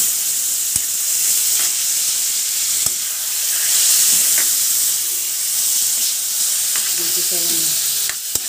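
Pork chunks for adobo fry and sizzle loudly in a hot pan as they brown, a dense continuous crackle with occasional pops and stirring scrapes, while a person speaks briefly near the end.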